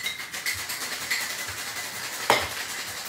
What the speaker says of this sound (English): That is the sound of a martini being made